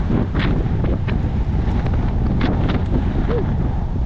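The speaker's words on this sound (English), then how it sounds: "The wind's kicking in." Steady beach wind buffets the microphone throughout a bike ride along the shore at Miramar Beach, Florida, a constant loud low rumble with no break.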